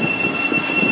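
A train at Leagrave station pulls in and slows to a stop, its steady broadband rumble and rail noise filling the whole second with no talk over it, a few faint high tones drifting above.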